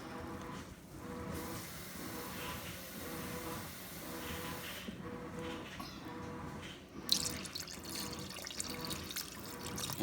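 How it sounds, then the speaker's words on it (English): Tap water runs steadily into a soup pot holding oxtail and beef stock, a continuous splashing hiss with a brief louder gush near the end, close by and with no talking. "I'm going to cover it with water."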